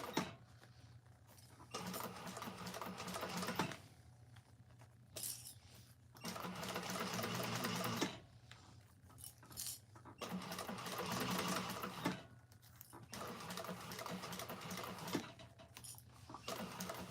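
Sewing machine stitching a bag lining, faint rapid mechanical whirring in repeated bursts of a few seconds each, separated by short pauses, with no talk.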